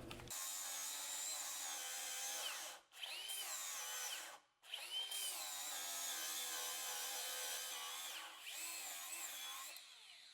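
A Hilti cordless angle grinder runs a flap wheel against metal, giving a loud, steady high-pitched whine that sags briefly twice as the wheel bites in, then recovers to full speed.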